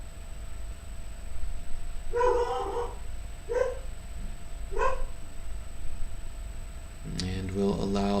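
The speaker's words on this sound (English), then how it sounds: "we'll allow my puppy's bark to be perfect part of this meditation" A puppy gives three short, high yapping barks spaced a second or so apart, fairly close, over a low steady hum, and then a person starts speaking.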